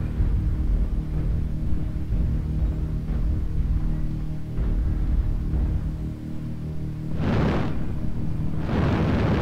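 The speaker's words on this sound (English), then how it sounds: "Artillery strike online." Heavy artillery strike explosions in the MechWarrior Online game roll as a deep continuous rumble, with two louder booming blasts near the end and no talking.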